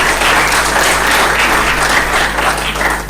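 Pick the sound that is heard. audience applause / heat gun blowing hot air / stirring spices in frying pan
audience applause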